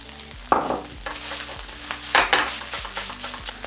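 Egg fried rice with spring onions frying in a hot pan: a loud, close sizzle with sharp bursts as ingredients hit the oil, plus a few spatula scrapes and taps, and no voices.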